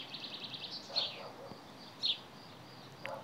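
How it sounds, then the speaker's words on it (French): Birds sing among poppies and other flowers in mating season, with faint, scattered chirps and short high calls over soft outdoor ambience. "Vous entendez les oiseaux."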